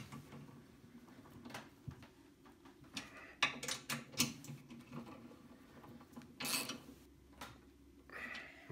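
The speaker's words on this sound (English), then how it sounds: "now I simply just tighten these four nuts back up and we're ready to go" Four nuts on a TRAX TX6000 power trailer dolly are tightened by hand, giving faint metallic clicks and scrapes in irregular bursts with short gaps between them.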